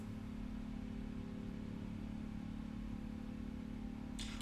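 A steady, droning jet engine roar from a Boeing 777 with General Electric engines in Microsoft Flight Simulator 2020 holds at an even level with a low rumbling hum, ending in a brief burst of hiss.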